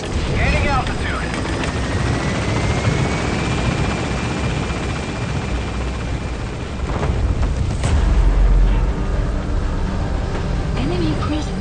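Helicopter in Metal Gear Solid V: The Phantom Pain climbing for altitude, a loud steady rotor and engine roar filling the whole stretch with a rising whine, with radio-style speech over it.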